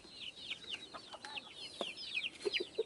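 Sasso free-range chicks cheep in rapid, high overlapping peeps, close and fairly faint, with a few lower clucks near the end.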